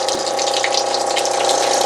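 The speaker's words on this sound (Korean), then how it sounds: "물은 지금 최대한 세게 틀어놨는데도 물이 이렇게 좀 찔찔찔 나오기 때문에" Water hisses and sputters steadily through the inlet of a top-loading washing machine with a clogged inlet valve, a thin, weak, pressured trickle despite full tap pressure, with a constant mechanical hum underneath.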